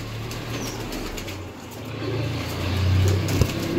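Teddy pigeons with feathered crests are heard in a loft, giving soft low cooing and a few brief wing flaps over steady outdoor background noise, with a passing vehicle rumbling faintly.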